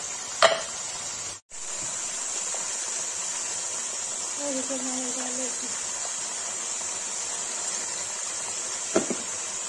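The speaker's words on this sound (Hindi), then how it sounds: "मटन फ्राई के लिए रख दिया है, उसे नमक डाल के इसको ढक देंगे" Mutton frying with salt in a pan and being stirred, a steady bright sizzle throughout with a few soft utensil scrapes and knocks.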